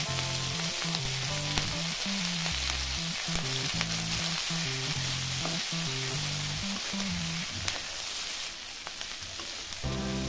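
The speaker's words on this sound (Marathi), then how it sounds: "आता तेल घालून भाजायचं" Green chilies roast in a splash of oil in a pan over a high flame, a loud continuous sizzle and fry crackle running steadily throughout with no talk.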